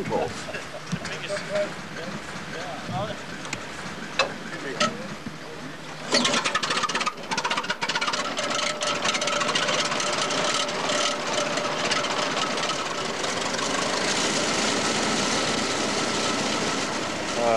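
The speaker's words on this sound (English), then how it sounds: "this is a square turn tractor, about a 1917 model. It was made in North Fork, Nebraska." A 1917 Square Turn tractor built in North Fork, Nebraska runs with a steady, dense mechanical clatter that grows louder and fuller partway through, continuing without pause.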